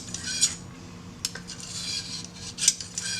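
An HK45 pistol barrel being scrubbed with a bore brush gives a few short, close metallic scraping strokes spaced over a few seconds, quiet and alone with no voices.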